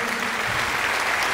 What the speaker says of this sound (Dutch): Geef nog een groot applaus.